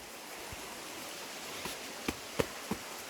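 A stream flows beneath a footbridge on a Yorkshire Dales waterfall walk, giving a steady, broad rushing hiss throughout, with a few faint knocks and clicks over the water.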